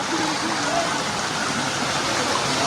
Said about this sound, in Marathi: बघा पुढे धबधबा स्टार्ट झालेला आहे